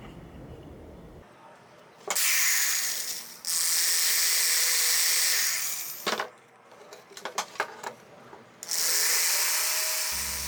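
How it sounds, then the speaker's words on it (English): Drill boring 3/16 inch holes in a Kydex holster, loud whirring bursts of a few seconds each separated by short clicks and handling noises. "I drill a couple of fresh 3/16 inch holes."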